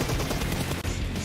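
Gunfire in PUBG Mobile during a tournament match: a dense burst of rapid shots runs through the whole brief moment, loud and continuous with no talking.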